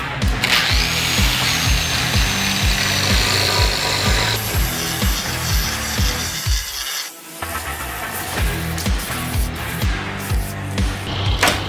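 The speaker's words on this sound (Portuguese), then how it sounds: "Esse é o processo da retífica." A power grinder cutting a chamfer along the edge of a porcelain tile countertop, a loud, continuous, close whining grind with shifting pitch and a brief dip midway before resuming, with no speech.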